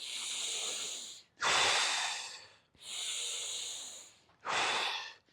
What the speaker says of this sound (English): Now notice I'm breathing in through my nose.